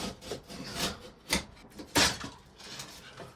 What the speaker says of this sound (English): you just slice the sheetrock by following that 2x4 edge